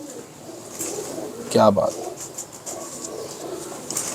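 Pigeons cooing among a keeper's fancy breeds, one clear close coo in the middle with soft bird sounds around it, and someone speaks briefly.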